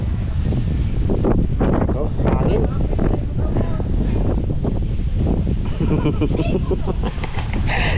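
Strong wind buffets the microphone in a continuous loud roar, with a voice talking faintly underneath.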